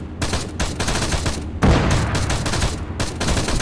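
Sustained bursts of gunfire in the Arma 3 Prairie Fire Vietnam setting, dense and loud with repeated volleys, a heavier burst about midway, and no talk over it.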